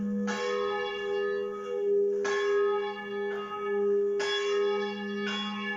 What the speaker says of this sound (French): Ce petit village nous accueille maintenant lorsque l'on entend ces cloches.